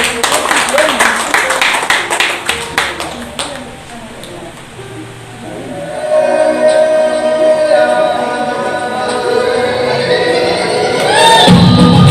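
An audience claps for a kindergarten dance performance of Pancasila student profile children from TK Pertiwi, with quick bursts of clapping that give way to music and a host's voice.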